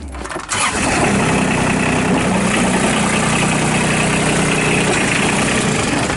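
A 2008 Kubota RTV900 utility vehicle engine cranks and catches in the first half second, then settles into a loud, steady, close idle with a rough diesel-like clatter for several seconds.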